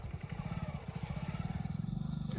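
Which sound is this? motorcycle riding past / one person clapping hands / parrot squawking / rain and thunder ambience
motorcycle riding past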